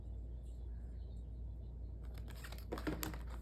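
Tarot cards being shuffled during a three-month prediction reading: about a second of quiet, rapid papery riffling and flicking near the end, faint and close over a low background rumble, with no talking.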